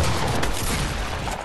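Dense, loud gunfire in the video game Fortnite, a continuous broadband burst of shots filling the whole moment up close with no gaps and no talking.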